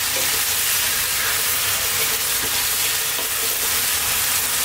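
Carrots and chicken stir-fry over very high heat in a pan, giving a loud, constant sizzle and hiss with occasional soft stirring clatter and no pauses.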